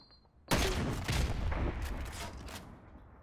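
A burst of rapid video-game gunfire erupts after a brief quiet, a dense fusillade of shots and booms that fades slowly over a few seconds.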